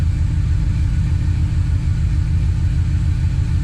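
Car engine idling steadily just after a first start on a newly fitted Holley Sniper fuel injection system, a constant low rumble held evenly throughout with no revving or speech.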